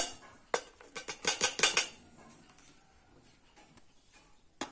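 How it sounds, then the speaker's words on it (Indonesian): Rempeyek peanut cracker batter stirred in a bowl, a quick run of bright clinks as a utensil knocks the bowl's sides, then quieter scattered taps, close and alone. "Kemudian masukkan sedikit demi sedikit airnya sambil kita aduk sampai tercampur rata."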